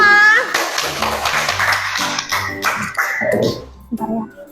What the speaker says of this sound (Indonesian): Kita beri tepuk tangan semua.